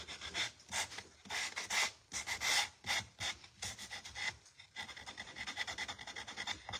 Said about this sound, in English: now I can distress some of the edges. And I'm using 80 grit for this one